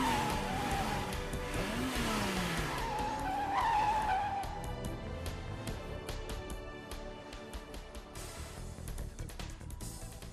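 Race cars tear around a track in a Hindi animated cartoon, with loud engine whine sweeping up and down, skidding tire squeals, and a dense busy soundtrack of rapid effects throughout.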